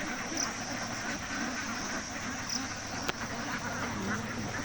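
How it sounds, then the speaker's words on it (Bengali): Ducks from a flock of about 5,000 quack repeatedly at a middle distance over a steady background rumble, scattered calls overlapping from several birds, with one sharp knock partway through. "আর একটা একটা করে আসছে হাঁসগুলো"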